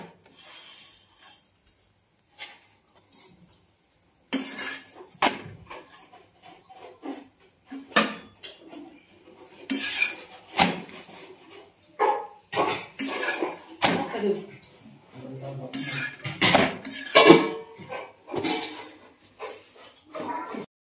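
Plates and dishes clatter and clink repeatedly while a home meal of flatbreads is cooked, in a series of close, sharp knocks and scrapes of varying loudness with no talk.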